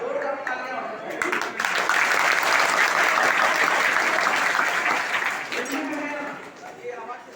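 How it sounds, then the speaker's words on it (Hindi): Loud, dense applause from a school audience at an inter college in India swells quickly and holds for about five seconds before fading, with voices heard at the start and end. "बस जोरदार तालियां होनी चाहिए।"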